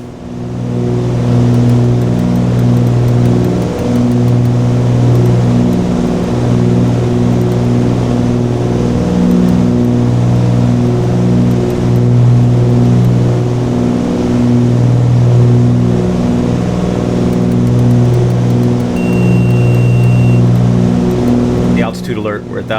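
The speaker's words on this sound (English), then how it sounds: "engines are leaned out for this altitude anyway" Twin piston engines of a Cessna 414AW Chancellor cruising in flight in Microsoft Flight Simulator, a loud, steady droning hum with layered harmonics and slight beating between the two propellers, continuous throughout with a brief click near the end.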